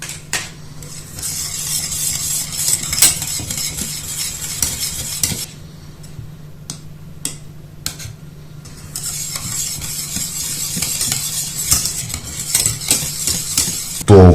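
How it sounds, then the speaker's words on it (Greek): A spoon scrapes and stirs steadily through hot lemon curd as 125 grams of cold butter is worked in off the heat, a close, continuous swishing that eases briefly in the middle before resuming. "Θα προσθέσουμε σταδιακά και θα ενσωματώσουμε 125 γραμμάρια παγωμένο βούτυρο."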